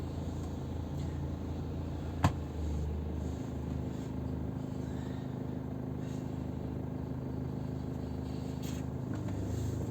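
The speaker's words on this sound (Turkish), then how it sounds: "Şu an kayıyor araç." BMW car driving on a snowy road, heard as a steady, faint low engine and road rumble from inside the cabin, with one sharp click and no talk.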